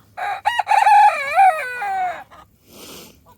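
A bantam rooster crows loudly and close by inside a small 4x4 coop, giving one long wavering call followed by a few short clucks.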